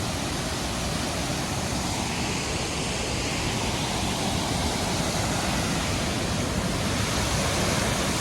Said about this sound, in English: you got this beautiful view of this waterfall